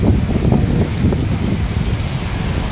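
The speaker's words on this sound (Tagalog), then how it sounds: "Lakas talaga ng hangin, no?" Strong, gusty typhoon wind buffeting the microphone alongside heavy rain hitting surfaces, a loud continuous roar, in Macau during a Typhoon Signal 8.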